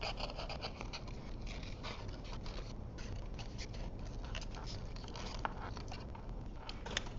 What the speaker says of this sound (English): I'm just going to fussy cut around these